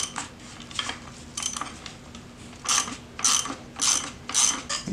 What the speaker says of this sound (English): all you're gonna do is just sit here and you're gonna crank the pulley off